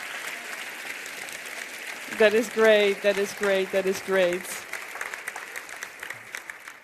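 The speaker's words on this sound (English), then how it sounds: "A big round of applause." Audience applause at a closing youth event in Europe, a broadband wash of clapping running throughout while a voice speaks over it partway through.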